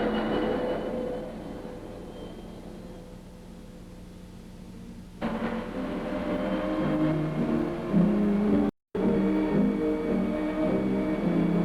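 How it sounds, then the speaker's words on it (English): A 1962–63 air-cooled Plymouth turbo Dart on the road to the coast starts up and pulls away, a steady engine drone rising into a fuller, louder roar with a brief dropout near the end. "Our air-cooled turbo dart kicks right off and pulls out to lead the way to the coast."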